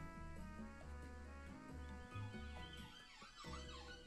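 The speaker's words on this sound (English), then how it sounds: "Damn police cars going past again." Police car sirens passing outside wail in continuous rising and falling tones, steady and fairly loud but distant in overall level, with no talk over them.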